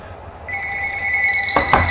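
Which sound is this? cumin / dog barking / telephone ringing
telephone ringing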